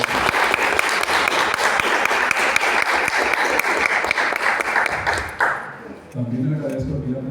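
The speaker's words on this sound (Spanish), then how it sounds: "Aplausos, por favor." An audience at a cultural-centre event on the guitar and guarania claps in a full, crackling burst for several seconds, then thins and dies away as a voice starts talking.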